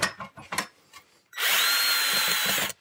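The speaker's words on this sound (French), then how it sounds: "Et là, il suffit de visser." A power screwdriver drives a screw into an ecological wood-fibre insulation panel under a roof, with handling knocks first and then one steady, loud, close whine of the motor.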